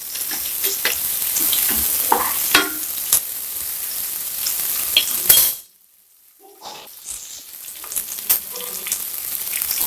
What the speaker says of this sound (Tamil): இந்த ஆனியனும் பச்சை மிளகாயும் வந்து பார்த்தீங்கன்னா நல்லா வதங்கிடணும்.